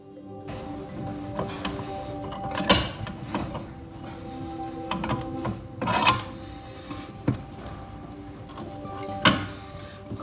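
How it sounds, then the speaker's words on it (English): A metal pipe fitting for a hog watering system clamped in a bench vise, heard as faint scraping, ratcheting and clanking with a few sharp metallic knocks spread through the stretch. "So I'm gonna put it in the vise."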